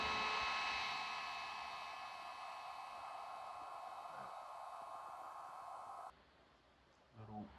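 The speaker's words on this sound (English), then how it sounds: "Beauty of using a heat gun." Heat gun blowing a steady broadband airy hiss for about six seconds during a DIY dead-plug repair, then cutting to a quieter, duller rush with a brief bump near the end.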